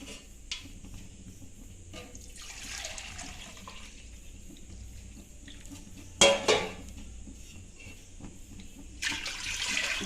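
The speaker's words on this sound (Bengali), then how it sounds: "তিন মগ জল দিলাম" Water poured from a mug into a cooking pot, in a few separate splashing pours with metallic clinks between them, close and fairly quiet.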